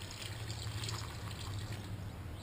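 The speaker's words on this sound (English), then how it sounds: "I just go ahead and pour my 3/4 container of water in there" Water from a three-quarter-full container poured into dry turtle paver mix, a steady close trickling and splashing wash that continues without pause.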